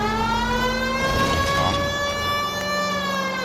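A police car siren wails loud and steady in the video game L.A. Noire, a sustained tonal siren with a shifting pitch partway through, heard alone with no talking.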